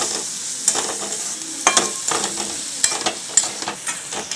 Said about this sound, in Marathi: आता आपण अजून याला फक्त एक ते दोन मिनटं अशी डाळ परतून घ्यायची